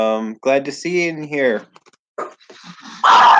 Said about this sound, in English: That's the dog that thinks he's a monster.